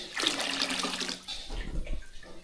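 Cold water from a shower in a Javanese home bathroom in Indonesia runs steadily and close by, a broad hissing splash that shifts partway through into a lower, heavier gush.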